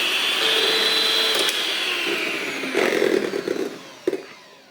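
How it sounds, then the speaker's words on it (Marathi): An electric beater whips Amul cream for butterscotch ice cream. A steady motor whir runs loud and close, then wavers and softens, with a few clattering knocks against the bowl as it winds down. "आता ही पण क्रीम आपण फेटून घेऊया"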